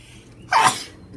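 A single sharp sneeze bursts out abruptly partway through a quiet stretch during a casual wrestling review chat, brief and close to the mic.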